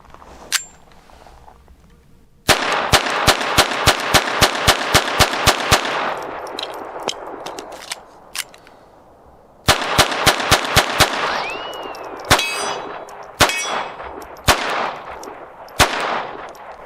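A Hammerli 1911 pistol in .22 LR fires Winchester Wildcat rounds at a range, sharp close reports in rapid strings of shots separated by pauses, then single spaced shots, with no talking.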